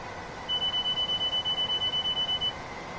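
A steady run of about a dozen evenly spaced electronic beeps sounds from a train cab warning system in the Train Sim World game, fast and urgent, then stops, over a constant low hum.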